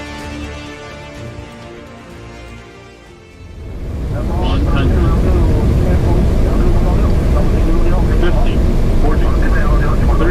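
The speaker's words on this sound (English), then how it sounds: "Our plane has just arrived and is still taxiing now." Passenger airplane taxiing after landing at Harbin in winter, a loud steady jet engine rumble and roar swelling in after a quieter cabin hum, heard from inside the aircraft.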